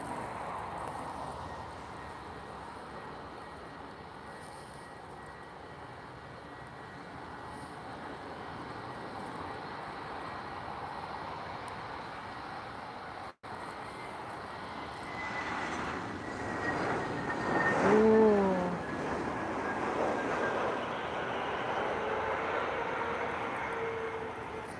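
Transavia airliner in retro livery at Lisbon Airport, a faint distant engine rumble that swells midway into a louder passing whine with a rising tone, then lingers as a steady background drone; no talk.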